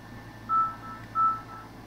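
A phone gives two short electronic tones about two-thirds of a second apart, each a clear beep over a low, steady hum in a quiet room, with no talking.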